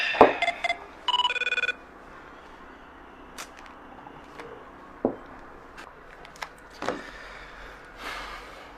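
A telephone rings with short bursts of electronic trilling near the start, then quieter scattered clicks and knocks follow in an otherwise still room.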